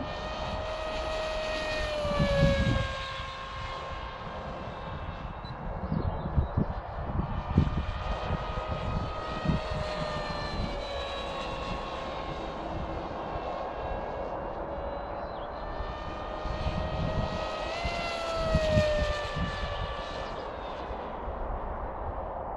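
A Sipa 200 model airplane flies overhead, its engine droning steadily with rising and falling pitch as it passes, moderately distant and continuous with no speech.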